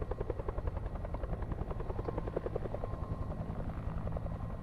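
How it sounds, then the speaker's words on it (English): A video game helicopter's rotor thumps in a steady, fast rhythm, moderately loud and continuous, with a low engine drone underneath. "Sounds like a chopper."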